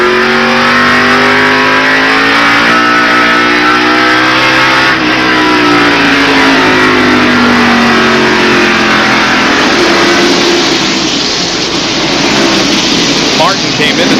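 A pack of NASCAR Winston Cup stock cars at the 1991 First Union 400 roars past from an in-car camera, engines droning loud and steady with shifting pitch as they run together, under a commentator's continuous talk.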